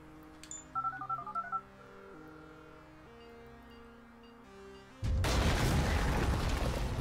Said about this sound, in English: Use the phone to trigger the explosive.